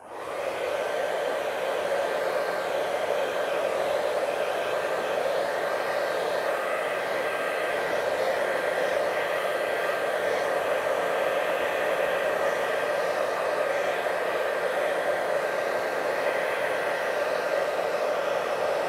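A hair dryer blows steadily on wet watercolor paint for a mountain landscape, a loud continuous whir with a faint high whine and no pauses or talk.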